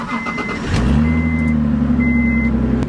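A 1996-97 Acura TL 3.2 starts up, its engine settling into a steady idle hum close by, while a thin electronic chime tone sounds intermittently.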